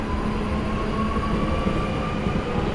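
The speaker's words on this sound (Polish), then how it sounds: "Rusza punktualnie, najbardziej punktualna kolej w Polsce, czyli warszawska kolej dojazdowa." A Warsaw WKD commuter railway train pulls away from the platform with a steady low rumble and faint whining tone, close and continuous, with no talk.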